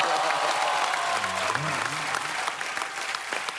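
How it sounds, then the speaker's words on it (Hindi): Steady clapping from an audience fills the whole moment, loud and continuous, with a brief voice-like warble under it. "तालियों की गड़गड़ाहट"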